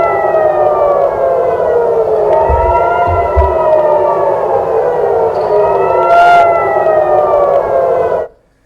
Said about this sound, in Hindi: इजराइल के तेल अवीव में सायरन बजने लगे हैं, जिसकी शोर अभी आप सुन रहे हैं।